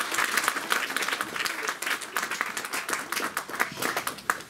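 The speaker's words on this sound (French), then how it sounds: "Acclamez quand même." A church congregation applauding during a consecration service for officiants at a tabernacle, a steady dense burst of clapping from many hands that fills the room throughout, fairly loud and sustained.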